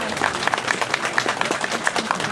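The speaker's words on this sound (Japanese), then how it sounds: "どうぞ拍手でお迎えくださいませ" Audience applause welcoming a local taiko drum group onto the stage, steady crowd clapping with a few sharp individual claps standing out above the mass.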